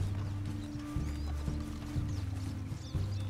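A horse in Red Dead Redemption 2 clip-clops along at a steady walking rhythm. The hoofbeats are regular and close, over low game ambience, and no voices are heard.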